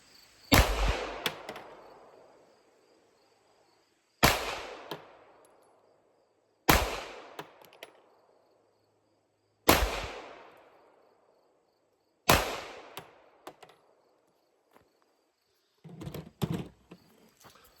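Sharp loud shots from a Springfield Echelon polymer pistol fired at 10 yards, five spaced cracks each with a ringing outdoor decay, followed by a brief cluster of softer clatter at the end.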